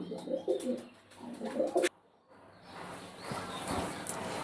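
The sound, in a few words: pigeons cooing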